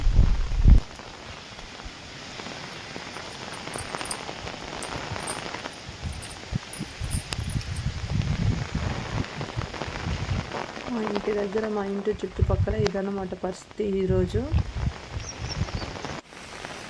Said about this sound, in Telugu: వానైతే గ్యాప్ ఇవ్వకుండా పోతుంది